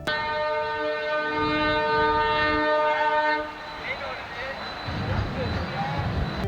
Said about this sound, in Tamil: இரட்டை என்ஜின்களுடன் 11 பெட்டிகளை கொண்ட இந்த ரயிலை புதிய பாலத்தில் 20 கிலோமீட்டர் முதல் 60 கிலோமீட்டர் வேகத்தில் முன்னோக்கியும் பின்னோக்கியும் இயக்கி